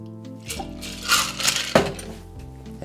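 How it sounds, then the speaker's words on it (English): A shaken gimlet is strained into a chilled coupe glass, with ice rattling and clinking against the strainer and shaker in short, close bursts and a sharper knock near the end. "Strain it out."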